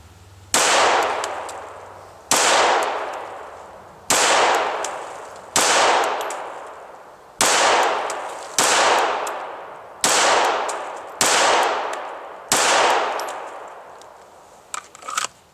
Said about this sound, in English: So as you're first learning to fire those initial shots, as you're getting used to the gun